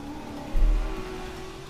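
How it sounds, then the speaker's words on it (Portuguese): Cars in the PlayStation 4 game Uncharted 4, luxury cars from a parking lot, rumble past with a low engine drone that swells briefly in the middle before settling back to a steady hum. "Barulho dos carros aí."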